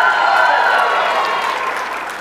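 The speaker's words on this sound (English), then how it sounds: "These people would cheer for anything now." A crowd at an awards dinner applauds and cheers, a dense, loud wash of clapping with voices mixed in that eases slightly toward the end.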